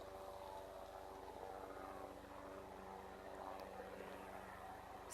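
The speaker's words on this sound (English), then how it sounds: "Sound of the helicopter is not thoroughly relaxing, is it?" A helicopter drones steadily in the distance, its rotor throbbing as a low continuous hum with no talking.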